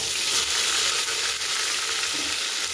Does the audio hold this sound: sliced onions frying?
yes